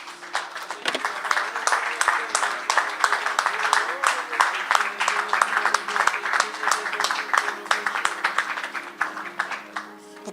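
A church congregation claps and cheers in praise during a service, dense steady applause mixed with voices calling out, loud and sustained throughout.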